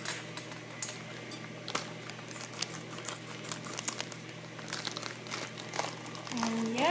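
Plastic packaging around cube bags being cut and pulled open, a run of soft crinkles and small crackling snips close to the mic, with a brief voice rising at the end.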